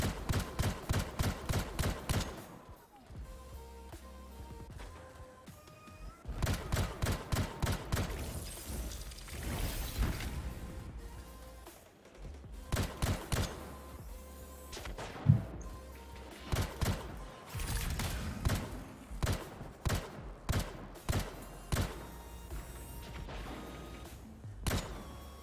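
Enemies open fire in the video game Anthem, with bursts of rapid automatic gunfire and heavy impacts coming in clusters amid loud, dense game action.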